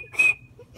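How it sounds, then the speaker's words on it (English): A small hoop spun through the air gives a thin, steady whistle that swells to a brief loud peak and then fades away, heard alone. "So when the air gets in these little things, it makes a whistle."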